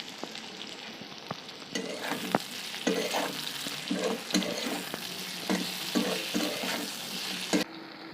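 Dried fish frying in a pan of chili-powder gravy base, with steady sizzling and repeated scraping stirs of a spoon against the pan at a close, moderate level.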